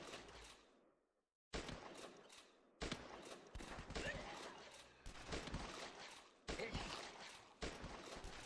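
Hunter rifle fire in the zombie shooter flash game The Last Stand: sharp, loud gunshots in a steady series after a short silent gap, each blast leaving a noisy tail that keeps the shooting dense.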